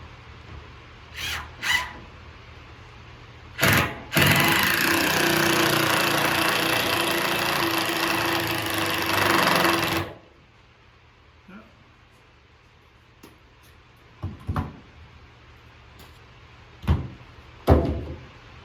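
A battery power drill drives screws into wooden boards while a chicken coop is being built, with one long continuous whirring burst after a few short clicks and knocks, then scattered faint taps.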